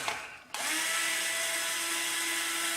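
A small drill with a 1/16 inch bit bores into a 380 quad frame, the motor spinning up sharply after a brief quieter lead-in and then whining steadily and loudly at close range with no talk.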